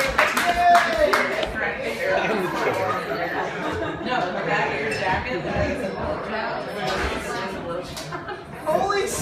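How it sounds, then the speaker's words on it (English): An audience applauds a stand-up comedian on stage, a sustained wash of clapping mixed with crowd chatter and voices over it, loud and continuous throughout. "Clap it up for Trebuchet again, guys."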